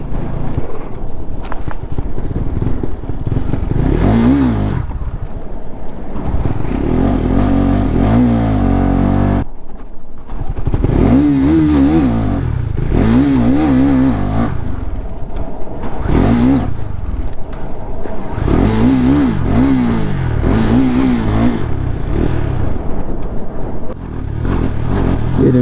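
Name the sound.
KTM motorcycle engine at full throttle, riding at about 50 km/h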